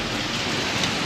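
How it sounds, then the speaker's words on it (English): Rain falls steadily at a farmer's market in Concord, New Hampshire, an even broadband patter with no one talking. "The rain is annoying,"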